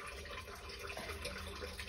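A kitchen tap runs water to top up corned beef for a slow cooker, giving a steady, soft hiss and splash that continues evenly without a break.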